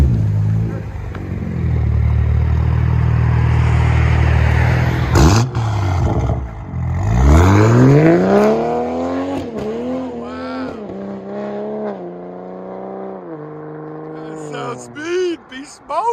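A 2021 Toyota Supra GR with a 3.0L inline-six and aftermarket exhaust revs hard and loud, then the engine note sweeps down and rises again with sharp pops and crackles near the end, while people talk over it.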